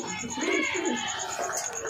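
A pigeon gives a soft, low coo close by, a brief rolling call over faint background noise.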